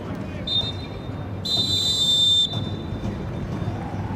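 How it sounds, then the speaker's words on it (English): A referee's whistle sounds at a women's soccer match, with a short chirp followed by a longer, shrill blast of about a second above crowd and stadium ambience. "So there is the halftime whistle."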